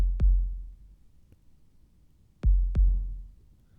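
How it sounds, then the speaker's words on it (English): Deep, booming heartbeat thumps in two double-beat pairs separated by a quiet pause, with a faint gritty texture on each hit. "it's a heartbeat with a tiny little bit of a grind to it"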